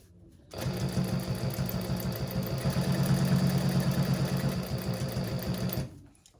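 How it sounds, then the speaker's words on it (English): A sewing machine stitches a handbag lining in one steady, continuous run of rapid stitching lasting about five seconds, starting and stopping abruptly. "It's not really a basting stitch, it's a securing stitch."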